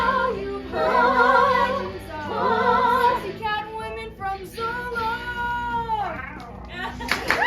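A voice imitates a cat, repeating a drawn-out meow again and again in a steady rhythm, close and fairly loud.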